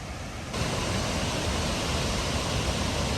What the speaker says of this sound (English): Cane Creek Falls is louder than Fall Creek Falls